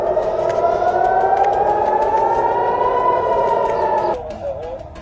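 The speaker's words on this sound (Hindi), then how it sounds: "सायरन बज उठे।" Air raid siren wailing across Israel, a loud sustained tone slowly rising in pitch over several seconds before cutting off abruptly, leaving a faint tail.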